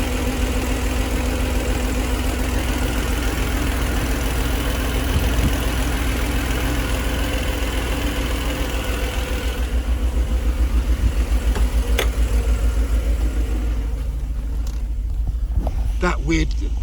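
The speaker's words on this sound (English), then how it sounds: "So as you can see, it runs. That's it running." A rebuilt car engine idles steadily with a low, continuous rumble throughout, with a possible slightly rough running from suspected inlet manifold gasket issues, and a few faint clicks and noises near the end.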